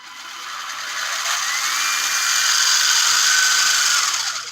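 A small electric drill motor runs steadily while turning a cog, giving a close, continuous high whine that swells slightly and then cuts off at the end.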